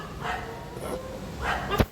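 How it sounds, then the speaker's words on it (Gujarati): Two dogs guarding a gate bark during the Ashadhi Bij fair, with a few short barks spaced apart that sound faint and somewhat distant against low background noise. "ત્યારે કૂતરાનો અવાજ ચાલુ થયો"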